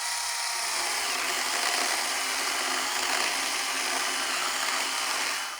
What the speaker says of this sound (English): Let's try something a bit larger, 65 millimeters. The cut is carried out swiftly, and let's do another one right after.